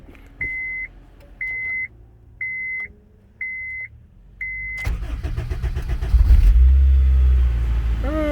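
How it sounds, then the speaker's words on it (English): A Buick's starter cranks briefly, hesitating before the engine catches and roars into a steady idle, following a series of five short, evenly spaced beeps. "Let's get this car started."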